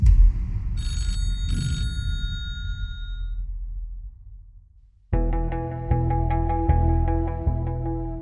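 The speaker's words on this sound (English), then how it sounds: "And for 3 years, the Mojave phone booth rang." Old telephone bell ringing from the Mojave desert phone booth: two short bright rings, a fading ringing tail, then a steady run of repeated bell-like rings after a brief near-silence, fairly loud and alone.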